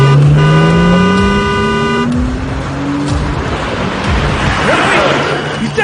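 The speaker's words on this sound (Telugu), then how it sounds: "నా ఇష్టం వచ్చినట్టు హార్న్ కొట్టాను రా." A car horn sounds in a long, loud blast close by. It is followed by engine noise and traffic rumble on the road.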